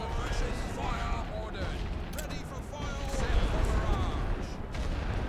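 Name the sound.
machine gun fire in the video game The Great War: Western Front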